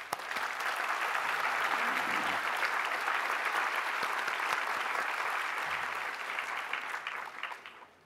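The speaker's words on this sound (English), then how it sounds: "Please join me in applauding this group of people" A convocation audience at a university graduation ceremony applauds families and supporters in a dense, sustained wash of clapping that holds steady for several seconds before tapering off at the end.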